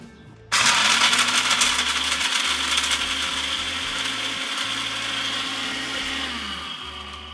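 A kitchen blender whirs steadily while chopping ginseng slices, starting abruptly after a brief quiet moment and holding a loud, continuous motor whine with a rattling grind throughout.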